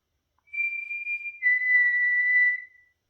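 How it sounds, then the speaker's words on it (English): A whistle is blown in two steady sustained tones, the second slightly lower and longer, in a quiet, still building during a ghost hunt at Mill Street Barracks, with no talking. "I'll try again with the whistle."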